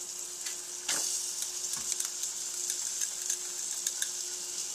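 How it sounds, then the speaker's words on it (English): Onions and celery frying in a pot while oyster soup is made, a steady bright sizzle with a few stirring scrapes and clinks near the start. "now I'm gonna add my onions"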